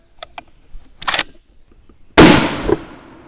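A Swiss K31 rifle in 7.5x55 fires a single loud, sharp shot with a brief decaying echo, preceded by faint clicks and handling noises.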